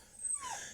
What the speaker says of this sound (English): I'm stuck in here with a crying dog.